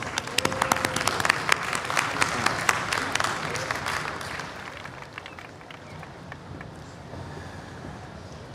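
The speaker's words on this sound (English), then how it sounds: "Let's give him a big round of applause" A large festival crowd applauds steadily at the World Culture Festival, dense clapping that swells early and then gradually fades down toward the end.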